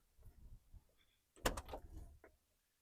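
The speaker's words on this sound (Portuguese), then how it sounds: "Vamos abrir aqui a porta traseira." Rear door of a Mercedes-Benz 220 D diesel car being opened: a faint latch click followed by a sharp mechanical clunk and short rattle, close and quiet.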